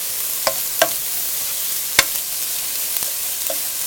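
Onions frying in a pan under a steady broadband sizzle, with a few sharp scrapes and taps from a stirring utensil scattered through the few seconds.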